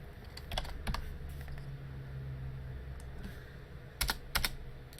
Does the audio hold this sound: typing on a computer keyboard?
yes